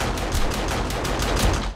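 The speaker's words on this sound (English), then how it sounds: "What are you shooting at?" Gunfire in the survival game 7 Days to Die crackles in a steady run of rapid shots at moderate volume, with no voices over it.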